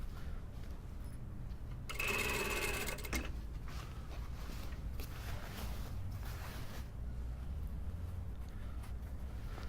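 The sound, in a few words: sewing machine sewing sleeve into jacket armhole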